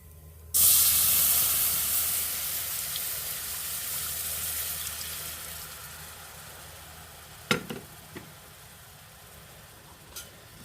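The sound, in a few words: broth being poured into pan of browning beef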